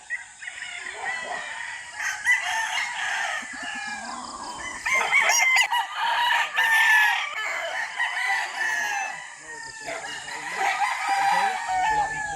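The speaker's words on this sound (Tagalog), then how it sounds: "Ang ingay ng mga manok, oh." Chickens cluck steadily while roosters crow loudly now and then at a chicken farm in Magallanes, Cavite, a busy, noisy barnyard chorus close by.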